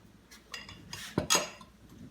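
A spoon stirs instant espresso coffee in a cup, giving a few quick clinks and scrapes of metal on ceramic, close and fairly quiet, in short irregular bursts.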